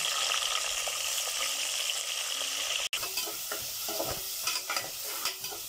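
Onions frying in hot oil in a pressure cooker with whole spices for mutton biryani, a steady sizzle with a spoon scraping and stirring through it, close and continuous.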